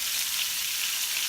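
Meatballs sizzling in a frying pan, a steady bright hiss with no break and nothing else over it.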